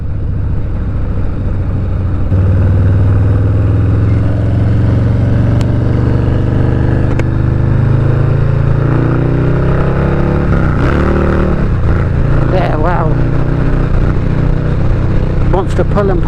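A Harley-Davidson Low Rider S rumbles steadily on a test ride, its low engine drone pulling and rising as it accelerates, with wind noise and no talk.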